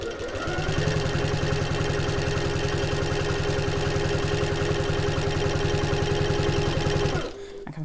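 A sewing machine top-stitching through layers of fleece at a 1/8 inch seam allowance runs in a fast, even, close mechanical whir for about seven seconds, then stops abruptly.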